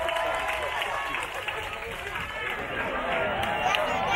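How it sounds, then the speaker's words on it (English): A crowd claps and cheers at a UP Fighting Maroons bonfire celebration for the UAAP Season 84 champions, a dense, loud and sustained wash of applause mixed with voices. "let's give a warm round of applause to Eusebio and Cero"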